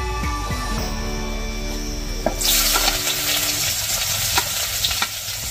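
Chopped onions hit a hot pan and burst into loud sizzling frying, with stirring clicks and scrapes over the steady crackle, no talking.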